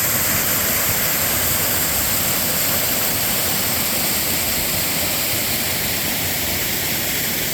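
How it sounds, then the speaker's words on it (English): Kilgore Falls waterfall pouring steadily over a rock ledge into a stream, a constant loud broadband rush with no breaks. "here it is, Kilgore Falls"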